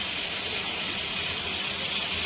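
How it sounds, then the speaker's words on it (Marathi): Bombil (Bombay duck) fish curry with kokum at a steady rolling boil, giving a continuous broad bubbling hiss that holds evenly throughout the short stretch with no talking. "आपल्या रस्याला मस्त उकळी आलेली आहे"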